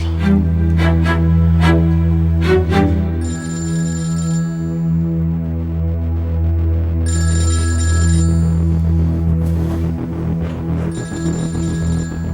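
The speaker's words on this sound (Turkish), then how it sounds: "Oğlum aç telefonu." Telephone ringing in a tense drama scene, repeated electronic ring bursts in a steady on-off pattern, loud and close, with no talk over it.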